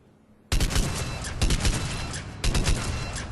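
After a brief near-silence, the Argus rifle in Mass Effect 3 fires three loud, rapid bursts about a second apart, each a tight cluster of sharp shots.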